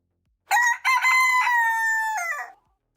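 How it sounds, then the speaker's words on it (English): A rooster crows once, loud and close, in a single sustained cock-a-doodle-doo of about two seconds that breaks off at the end, with silence before and after. "Rooster incoming."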